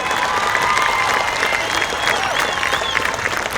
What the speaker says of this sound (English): A round of applause for your valedictorian